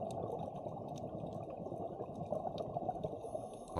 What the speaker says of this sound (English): bonus relaxing scuba bubble noises on the other